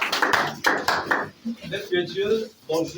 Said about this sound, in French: Nous acclamons une fois nos mains